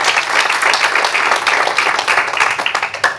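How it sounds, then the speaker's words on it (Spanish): Church congregation clapping and applauding, loud and close, with a brisk uneven patter of many hands and some crowd noise. "Vuélvele a dar otro aplauso a Jesús."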